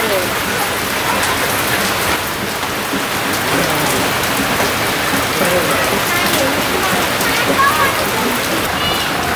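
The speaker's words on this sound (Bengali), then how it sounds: "তো ওইদিকে তো বৃষ্টি শুরু হয়ে গেছে" Steady rain pours down outdoors in a village, a dense, continuous hiss of drops striking surfaces with no breaks for the full stretch, loud and close.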